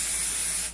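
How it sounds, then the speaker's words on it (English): A can of spray adhesive gives one sustained, close hiss for under a second before cutting off abruptly, with no talking over it. "I'm still gonna give just a good spray of some spray adhesive."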